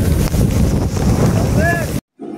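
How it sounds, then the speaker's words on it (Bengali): Strong wind and heavy rain batter a trawler on Tanguar Haor, a loud, steady roar of gusts and water close to the microphone, with a brief whistling tone near the end before it cuts to near silence. "বাতাস হওয়ার পরে এবার শুরু হয় অনেক জোরে বৃষ্টি।"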